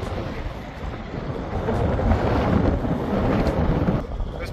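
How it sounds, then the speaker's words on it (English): Strong, gusty wind roars steadily at an emptied convention center lot, buffeting the microphone with a dense, rumbling rush that swells slightly midway and eases near the end. "And this wind does not let up, man."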